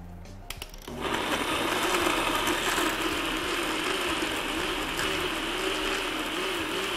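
Blender whirring steadily as it purees a tomato and arugula gazpacho with lemon juice; after a short start click the motor noise jumps up about one second in and stays loud and even to the end, with no voices.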